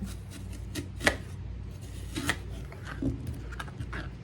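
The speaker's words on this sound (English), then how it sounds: "take this apple and get it cut up in some little bites" A knife cuts an apple into small bite-sized pieces on a board, giving sparse, crisp chops at irregular intervals against a quiet kitchen background.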